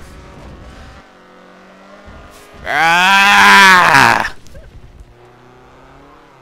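A Ford Fiesta is driven at full throttle: the engine surges in one loud, rising burst of about a second and a half, then drops away to a quieter idle. A brief exclamation is heard.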